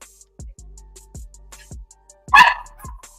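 A dog barks close by in a series of short, sharp yips spaced through a few seconds, rising to one louder, strained bark near the end.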